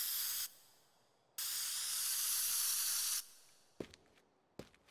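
Spray paint hisses in the Teardown video game, two long steady bursts followed by short sharp puffs, loud and close with no talking.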